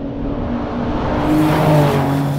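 Loud, close engine roar of a 750 hp air-cooled, rear-drive, carbon-bodied Porsche prototype accelerating hard, the tone rising steadily as it gains speed, no talking.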